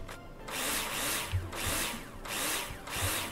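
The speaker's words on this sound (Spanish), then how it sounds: "Vámonos para abajo con el taladro." Power drill in the Builder Simulator game: three or four whirring bursts, each lasting about half a second to a second, separated by short gaps, fairly close and moderately loud, with no talk.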